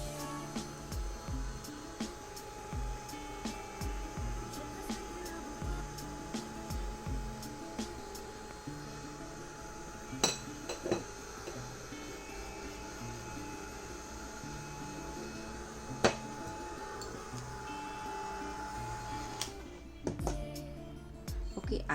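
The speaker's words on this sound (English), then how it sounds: "I'm going to use my heat gun, and I'll just give it a quick dry" A heat gun blows steadily on a glass plate photo transfer, a continuous airy whir at low level running throughout, with occasional small clicks and handling noises over it.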